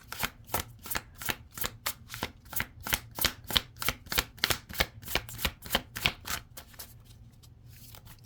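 Tarot cards are shuffled close by in a quick, steady run of about twenty crisp riffling slaps, fairly quiet, with no voices.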